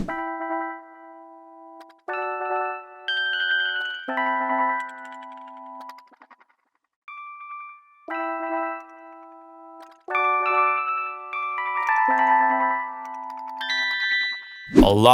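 A bell-like synth melody one-shot sample, time-stretched to tempo in FL Studio, plays in tight, even phrases with echoes locked to the beat, ending on a short burst of noise.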